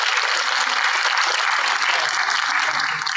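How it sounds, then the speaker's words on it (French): Steady, dense applause from an audience at an afternoon gathering for elderly people, continuous and even throughout with no pause. "On peut les applaudir bien fort"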